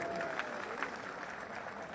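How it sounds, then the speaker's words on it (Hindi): Crowd applause at a rally in Bhopal, a steady wash of clapping from many hands, fairly faint and distant, with no single voice standing out. "एक बार जोरदार उनके लिए तालियां बजाइए साथी"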